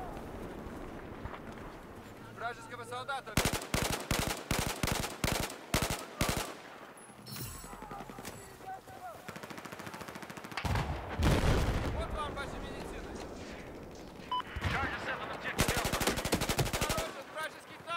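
Gunfire from an M16A4 rifle in Battlefield 4 on a PS4 during a Golmud Railway Rush match, with rapid bursts of shots and game effects mixed with in-game voices and background battle noise.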